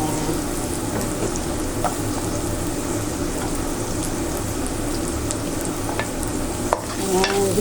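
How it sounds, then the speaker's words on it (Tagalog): Garlic and onion sauté in a pan for pancit, giving a steady, close sizzle with occasional stirring clinks. "gisa lang natin guys hanggang sa lumabas yung aromatics ng ating bawang at sibuyas"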